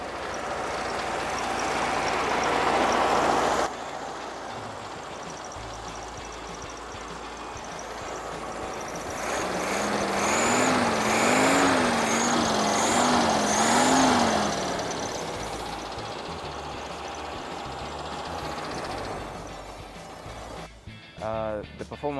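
A classic car with a 1600cc engine drives along, its broadband road and engine noise steady throughout, with a rising and falling rev in the middle; a person talks over it.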